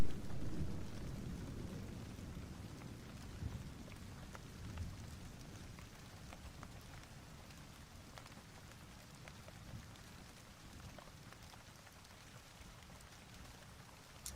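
Rain sound effect played on a livestream, a steady hiss of rain on a surface with scattered droplet patter and low rumbling, faint and continuous, no talking.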